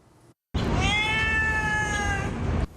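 A cat trapped on the second floor of an iron-sheet building in Kaohsiung's Qianzhen district lets out one long, loud, drawn-out meow, close and alone.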